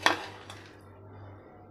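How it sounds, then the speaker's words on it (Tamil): A spoon scrapes and clinks against a pot while stirring coconut milk rice: one sharp metallic knock, then a few softer scrapes fading over a low steady hum from the stove. "இப்போ இதை நல்லா மிக்ஸ் பண்ணிக்கலாம்"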